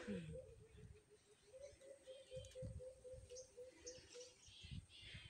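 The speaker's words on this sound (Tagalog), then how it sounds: "Ang ganda ng tunog ng ibon." Repeated soft, cooing bird calls ring out in a quick, evenly spaced series at an outdoor spot by the sea in Mabini, Batangas, faint and mixed with light ambient noise and brief low thumps.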